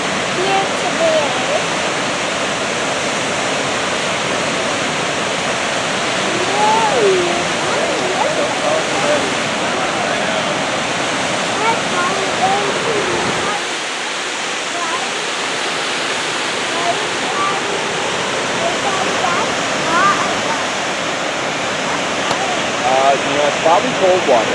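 A Yellowstone National Park waterfall pours in a steady, broad roar of rushing water, heard close and loud throughout, with quiet voices talking now and then beneath it.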